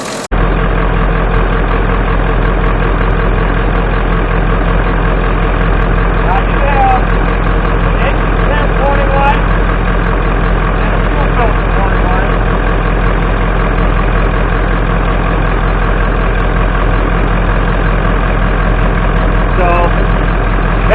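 A Ford Powerstroke diesel truck engine idles after a cold start following long sitting, producing a loud, steady low rumble throughout with faint speech beneath.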